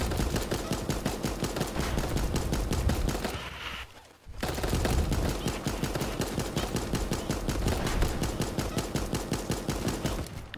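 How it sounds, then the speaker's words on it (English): Rapid, evenly spaced gunfire rattles through a Super Animal Royale match, loud and close, with one brief break before the automatic bursts resume. "I'm just like shooting at this point because I'm gonna die"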